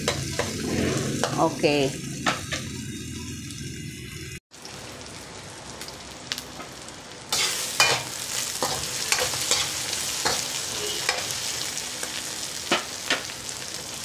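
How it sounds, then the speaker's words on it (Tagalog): Pork with thick fat sautéing in oil in a pan, a steady sizzle with stirring scrapes, brief talk at the start, then a short gap before the frying continues fairly quietly. "Kasi magigisa ka ng mantika, tapos baboy mo, makapal din ang taba."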